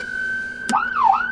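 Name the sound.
police vehicle siren on wail setting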